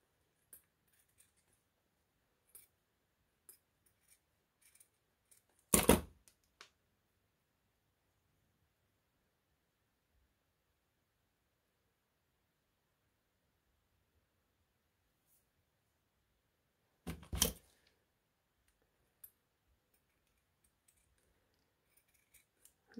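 Scissors cutting paper for a handmade Mother's Day card: two short bursts of close snipping several seconds apart, separated by near silence with faint scattered ticks.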